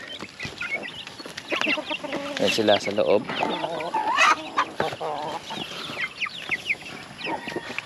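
Chickens and turkeys cluck and squawk steadily at close range, a busy flock chattering in a rural yard, with a person briefly speaking over them.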